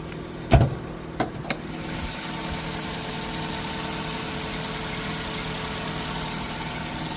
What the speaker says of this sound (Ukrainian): Двигун працює чудово.